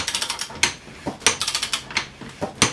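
A spring compressor is cranked on a Porsche 928 suspension strut, giving quick runs of close ratcheting clicks broken by short pauses and sharper metallic knocks.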